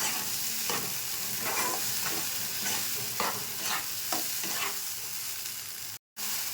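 Green pea kachori filling sautéed in a pan, with repeated scraping stir strokes over a steady, close sizzle and no talking.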